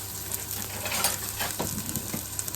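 Onions and shallots fry in hot rapeseed oil with a steady close sizzle and crackle, a few brief stirring scrapes rising above it.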